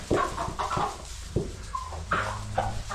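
Chickens clucking inside a chicken coop, with a rooster among them, several short clucks and calls coming close and fairly loud in an irregular rhythm.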